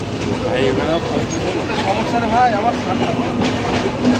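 Steady rumble and rattle of a moving train heard from inside a carriage, loud and continuous, with voices murmuring underneath.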